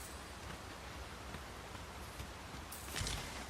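Steady rain falls in the video game Dragon's Dogma 2, a dense even hiss throughout with a slightly louder swell near the end and no speech.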